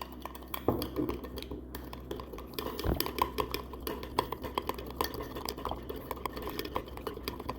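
A spoon stirs sugar into moka pot coffee in a cup, making a continuous run of small clinks and scrapes that are fairly quiet and close, with no voices.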